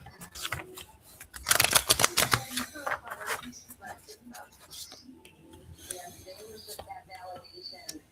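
Tarot cards shuffled in a burst of dense riffling and slapping near the start, then lighter card handling and taps continue quietly in a room.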